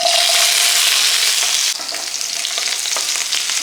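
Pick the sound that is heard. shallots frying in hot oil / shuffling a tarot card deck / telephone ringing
shallots frying in hot oil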